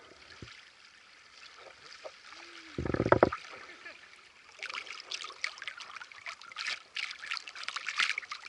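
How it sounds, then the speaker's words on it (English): Water trickles and drips off a raft or paddle on a river, soft splashes and light gurgles with a brief louder splash near the three-second mark, growing busier toward the end, close and fairly quiet. "Look at the water dripping off."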